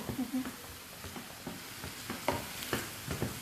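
Chard sizzles and fries in a pan while a utensil stirs it, the scraping strokes coming in a steady rhythm over a constant hiss, close and moderately loud.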